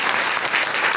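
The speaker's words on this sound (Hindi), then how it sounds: "ताली जोरदार बजाओ" Dense, steady audience applause fills a network marketing seminar hall, a continuous broadband clatter of many hands clapping close by, with no voices standing out.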